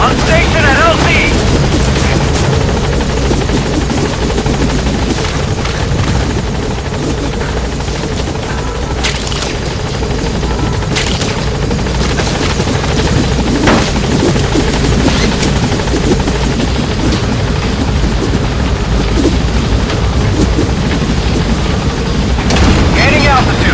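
B-Quad support helicopter from Metal Gear Solid V arriving at a landing zone: a loud, continuous rotor and engine roar fills the scene throughout, with bursts of distant gunfire and booms and radio voices over the din.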